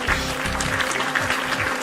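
An applause sound effect on a live stream of Fallout 4 plays as a short, steady patter of many clapping hands, moderately loud and continuous, with no voices.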